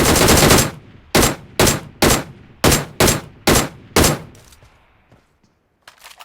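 Loud gunfire in a mobile battle royale game as a player shoots a bot: one long automatic burst, then about seven short, evenly spaced bursts that fade to quiet.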